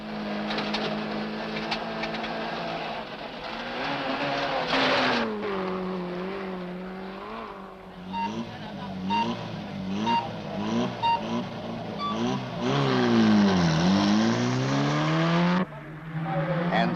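Ford Escort rally cars race through a special stage at the 1968 Rally of the Thousand Lakes, engines screaming loudly through rapid rising and falling revs and gear changes, with brief tire noise.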